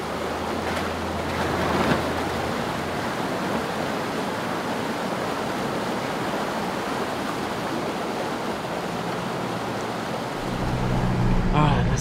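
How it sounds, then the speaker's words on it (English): Four-wheel drive pushing through deep water at Sam's Creek on Australia's Old Telegraph Track, a steady broadband wash and churn of water with low engine rumble throughout, swelling louder near the end. "I've hit the next crossing, only a few k's down the road, which is Sam's Creek."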